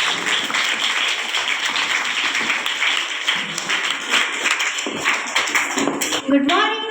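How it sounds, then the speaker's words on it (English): Students in a school hall clap for a classmate called up to speak, a loud sustained round of many hands that thins out near the end as a few last claps and a voice take over. "Please give a huge round of applause for her."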